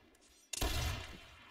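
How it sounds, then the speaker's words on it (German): A single sharp gunshot rings out in a video game, sudden and loud after brief quiet, then a short decaying tail. "Oh, ist aber ein Schuss."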